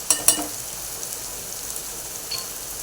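Turmeric, salt and spices sauté in hot oil for a dry clam masala, giving a steady, soft sizzling hiss after two brief clattering bursts at the start.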